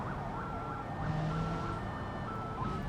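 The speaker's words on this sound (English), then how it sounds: "That's a really weird siren." A police siren in the BeamNG Drive racing game gives an unusual bubbly, rapidly warbling wail that repeats continuously and evenly, close and prominent, with no talking over it.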